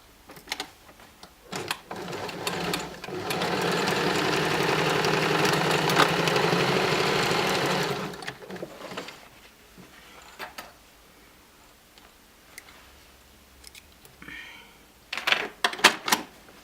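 A sewing machine stitches a buttonhole on a shirt collar in a steady whirring run of about five seconds. Scattered clicks and handling taps come before and after.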